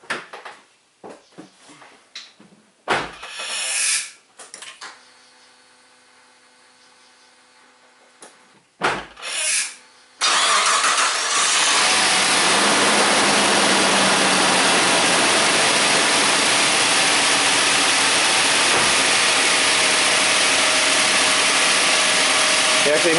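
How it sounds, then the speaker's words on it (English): A car engine turns over and starts after a few scattered clicks and knocks, then settles into a loud, steady, broadband running roar that holds to the end. "So let's fire it up, let it warm up to operating temp"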